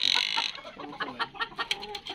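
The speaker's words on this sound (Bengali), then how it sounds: "এই মুরগিটার নাম হচ্ছে সেলব্রাইট।" A Sebright hen clucking nearby, giving a short run of sharp, rhythmic clucks over quiet farmyard background.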